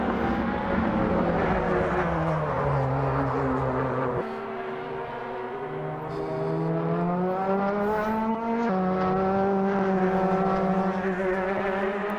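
A race car engine drones loudly and unevenly, its pitch sagging and rising as it labors, with no one speaking.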